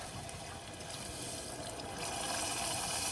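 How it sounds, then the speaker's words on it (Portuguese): Broth is poured into a pan of anchovies and capers, a steady splashing pour that grows fuller and louder toward the end, with no voices over it. "E aí entramos com o caldo."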